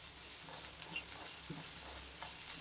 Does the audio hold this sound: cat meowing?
no